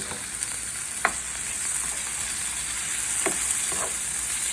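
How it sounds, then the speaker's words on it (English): Mushrooms hit a pan of browned sautéed onions and fry with a continuous hissing sizzle, close and even, broken by a few scraping stirs of a utensil. "my onions are sauteed and they are nicely brown. So I'm going to add to that my mushrooms"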